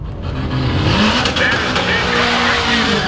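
A 600-horsepower Chevrolet SS accelerates hard down a quarter-mile drag strip, its engine roaring loud and near with a rising rev and a faint tire squeal, while a voice talks under the noise.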